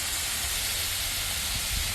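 Spicy country sausage patties, flattened out, sizzle in a pan with a loud, steady, dense hiss close up and no voices.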